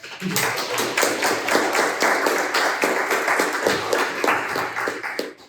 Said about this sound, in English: big applause for you to thank you for being here